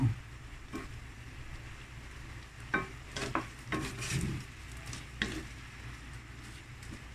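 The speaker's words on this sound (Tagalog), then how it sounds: "Simmer, hapit na siya maluto." Garlic butter shrimp simmers in a pan with a low, steady bubbling hiss, broken by several short scrapes and clinks of a utensil stirring against the metal.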